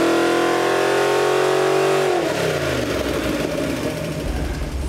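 A GM small-block engine with a modern LS top end roars at high revs on a dyno pull toward 6,000 RPM, a loud, sustained note that drops and roughens partway through.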